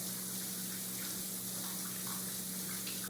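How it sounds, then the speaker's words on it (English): Tap water runs steadily into a sink during handwashing, a close, even and continuous gush with no talking over it. "Turn the water on."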